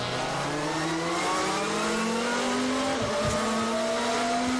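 A touring race car, driven by Tom Coronel in a 2015 World Touring Car Championship race in Argentina, heads into turn 1. Its engine note climbs steadily, then drops briefly before rising again, loud and close, with no voices.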